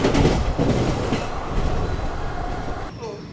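Train rumbling across the Garhmukteshwar bridge over the Ganga at night on an Indian Railways run toward Moradabad, a steady loud close rolling roar with low-end thumps of wheels, no talk.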